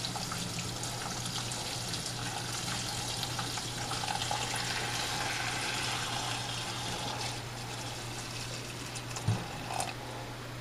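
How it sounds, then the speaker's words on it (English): Chicken broth is poured through a colander into a pot in a home kitchen, a steady soft stream of liquid splashing continuously at low volume, ending with a small clink. "I have a colander set up in another pot, and I am going to pour in the broth."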